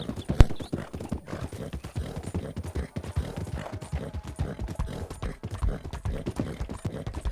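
Steady clip-clop of a horse's hooves trotting at an even rhythm in Red Dead Redemption 2 Online, continuous and fairly close, with a brief whinny near the start.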